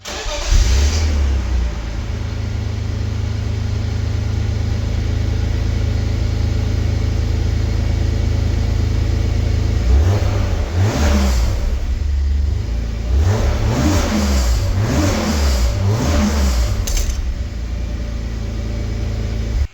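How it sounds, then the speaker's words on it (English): Supercharged BMW E36 M3 engine with a stainless catback exhaust idles loudly at first, then fires off a series of sharp, aggressive revs in quick succession before settling back to a rumbling idle. "Removing a lightweight stainless catback because you're tired of how loud your supercharged M3 is."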